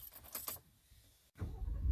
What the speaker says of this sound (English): And let's pull my keys out.